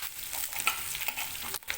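Cow tripe fries fast in a hot pan with a steady, close hiss and crackle, broken by brief stirring scrapes, and no one speaks.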